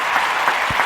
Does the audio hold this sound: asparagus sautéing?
no